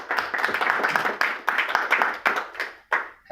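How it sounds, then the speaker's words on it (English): An audience claps for a guest, a mother, in a leadership session: a ragged burst of hand claps that swells, breaks off, and returns in several short waves. "Shall we clap for ma'am?"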